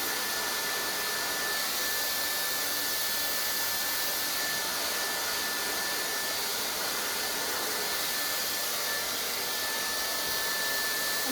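A hair dryer roars steadily and continuously at close range during a pre-blow-dry that builds volume in the hair, with no speech over it.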